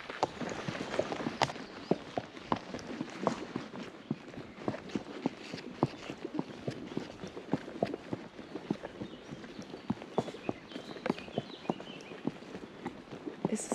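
A horse is led at a walk along a forest trail, its hooves striking in a steady, irregular clip-clop of close, distinct footfalls with no talking.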